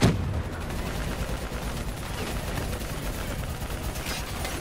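Gunfire from a Call of Duty Black Ops 3 campaign battle rattles on as a continuous, dense barrage, a constant mid-level roar of shots with a louder burst at the very start.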